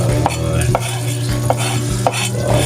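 Green chili and a whole onion are stirred in a pan, with a steady low sizzle and scraping utensil strokes against the pan about every half second, close and fairly loud with no voices.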